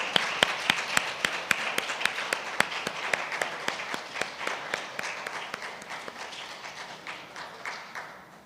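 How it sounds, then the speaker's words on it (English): An audience applauds at a Jamaica Productivity Centre event, with steady rhythmic clapping that is fairly close at first and then gradually thins and fades. "Please give them a round of applause."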